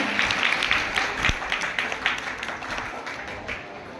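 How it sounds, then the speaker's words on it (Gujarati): An audience at a school entry and welcome ceremony applauds in steady, dense clapping that gradually thins and fades over a few seconds. "તાળીઓના લાભથી વધાવી લઈશું."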